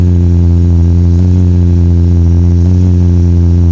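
A vehicle is driven in a video game, a loud, steady engine drone with a strong, even low hum and no change in pitch, close and continuous from start to finish.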